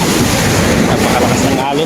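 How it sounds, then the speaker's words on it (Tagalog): Strong ocean waves crash and surge continuously at close range, a loud broadband roar with heavy wind buffeting the microphone and no pauses between breakers. "napakalakas ng alon guys"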